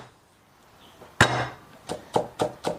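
A knife mincing ginger and garlic on a cutting board: after a quiet start, one sharp chop rings out, then four quicker, evenly spaced strikes follow, close and crisp with no talking.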